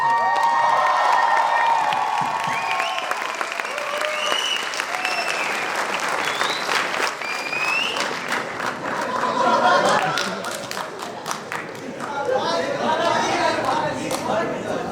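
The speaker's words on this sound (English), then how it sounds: "A round of applause." A festival audience at IFFI 2019 breaks into loud, sustained applause with cheering and shouts, dense clapping filling the hall for the whole stretch while crowd chatter and voices mix in.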